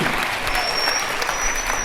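An audience applauds at a tribute event honouring a theatre company director, with steady, dense clapping from a crowd filling the short stretch at even volume.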